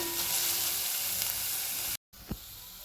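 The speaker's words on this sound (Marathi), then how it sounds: "अजून 1 मिनिटभर आपण कांदा परतूया" Onions sauté in a pan for a kardai leafy-greens sabji, giving a continuous bright sizzle and hiss, broken by a brief dropout and then a soft scrape of stirring.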